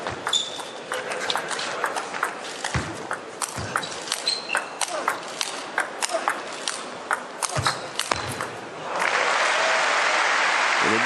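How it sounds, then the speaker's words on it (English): Spectators at a 2016 German Open men's singles semi-final in table tennis between Zhang Jike and Ma Long cheer and applaud after a point, with sharp ball and shoe sounds early, then a loud sustained roar of clapping rising near the end. "Can hear roaring after the point."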